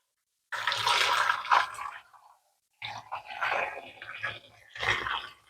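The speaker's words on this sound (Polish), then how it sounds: "Będziemy ją teraz je zalewać wrzącą wodą." Boiling water is poured over 1.5 kg of lemons in a kitchen, a close gurgling splash in two bursts separated by a short silent pause, the second stream breaking into uneven sputters.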